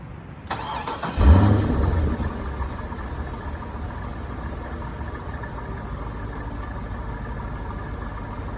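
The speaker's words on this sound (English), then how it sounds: "I'm going to give it a start, and we'll do our normal thing with listening to the engine" A 2003 Chevrolet Corvette convertible V8 engine cranks and fires up with a loud burst, then settles into a steady, low idle rumble.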